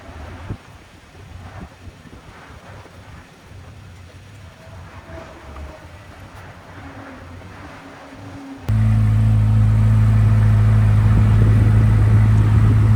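A C8 Corvette engine rumbles low and steady alongside wind noise, then grows much louder and fuller near the end, idling close by while warming up.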